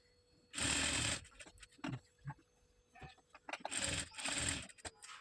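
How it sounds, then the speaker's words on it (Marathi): A close sewing machine stitches the neckline of a pentagonal-neck blouse in two short rapid bursts, separated by quieter clicks and handling of the fabric. "आता उलटा करून घेतला आणि इथे आपण टिप मारून घेऊया"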